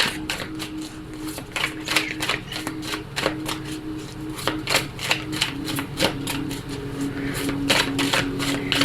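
Tarot cards being cut and drawn from a deck, a run of quick crisp card snaps and shuffles in steady rhythm, close and moderately loud, with a faint steady hum underneath and no talking.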